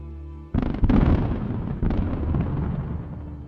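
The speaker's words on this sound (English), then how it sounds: "The vehicle begins to detonate and burn fiercely." A military vehicle struck by a HIMARS missile detonates with a sudden heavy blast, followed by a second burst and a sustained roaring rumble of burning and secondary explosions, loud and dense.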